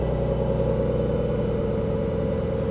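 A 2020 Porsche 992 911 runs with its exhaust system opened, giving a steady, loud, low engine drone at idle with an even rumble and no clear revving in this short stretch.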